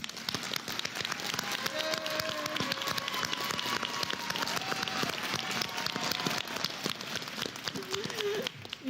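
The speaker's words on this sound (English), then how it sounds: "Please offer your applause to all these graduates" Audience clapping for graduates at a college commencement ceremony, a continuous patter of many hands filling the hall, moderately loud and even, with faint voices mixed in.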